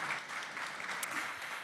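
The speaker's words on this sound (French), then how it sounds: "Je pense qu'on peut vous applaudir pour vos retours concrets." A conference audience at the EnerGaïa 2025 forum claps steadily, a dense even patter of many hands filling the room without a break.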